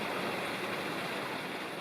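A forest stream flows into the pool above a waterfall in Nantahala National Forest, a steady soft rush of water with no other sounds.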